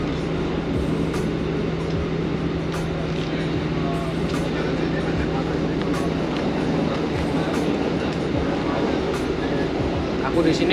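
Steady rumble of a passenger train rolling along rails in Poland, with a constant low drone and faint rhythmic clacks, heard from inside a carriage.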